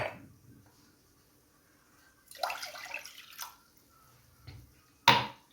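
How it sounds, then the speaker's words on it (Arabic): A cup of water poured into a dessert mixture, heard as a short close splash and trickle in the middle, then a few faint drips and a sharp final splash against near silence. "وغادي نضيف عليها كاس ديال الماء."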